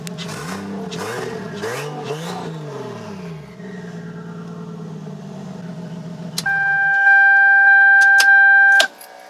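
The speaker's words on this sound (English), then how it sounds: "You heard when I revved it, it had a little bit of a sputter." A turbocharged 2JZ engine in a Lexus SC300 revs in several quick blips that sputter before settling to a steady idle, then a sharp electronic tone cuts in.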